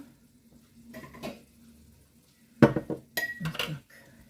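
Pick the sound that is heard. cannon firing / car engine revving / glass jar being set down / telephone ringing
glass jar being set down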